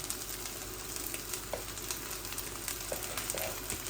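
Leftover cold rice tipped into a hot pan of fried onion and egg, a continuous close sizzle and hiss with a few light stirring scrapes, no voices.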